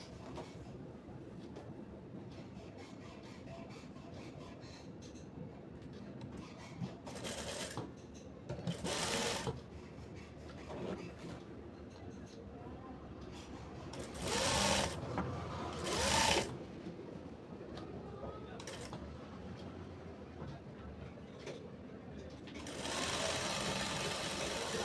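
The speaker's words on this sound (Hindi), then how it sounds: "इसी तरीके से इसको भी हम ले लेंगे सिल के" A sewing machine stitches a one-piece frock with sixteen panels, running in steady mechanical bursts, with louder runs around the middle and near the end, close by and with no talking.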